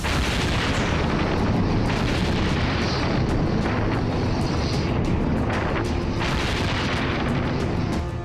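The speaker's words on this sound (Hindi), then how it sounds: "हिजबुल्लाह के एक एक ठिकाने पर इजरायली बम और बारूद ऐसे ही बरस रहे हैं" Bombs exploding on Hezbollah positions under an Israeli strike, heard as a dense, loud, unbroken roar of blasts and rumble with no clear gaps between them.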